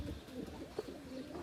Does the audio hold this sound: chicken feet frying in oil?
no